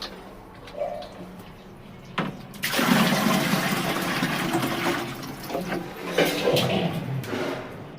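Water is drawn from a storage tank into a container, a rush of flowing, splashing water that starts after a couple of thuds and carries on steadily with small clunks.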